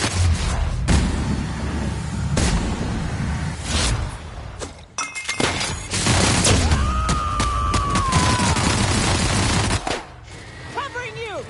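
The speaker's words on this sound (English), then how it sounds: "Opening fire!" Rapid bursts of sci-fi weapon fire from a space shooter game, loud and sustained with crackling impacts and a rising-falling electronic whine midway, broken by brief pauses.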